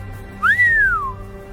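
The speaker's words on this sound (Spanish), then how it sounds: "Los estudiantes mayores silbaron con admiración." A single rising-then-falling whistle, loud and close, sliding up and gliding down in an admiring tone over about half a second.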